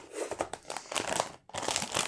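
A graphics card's plastic antistatic bag crinkles and rustles loudly up close in bursts of crackly handling, with a short pause partway through.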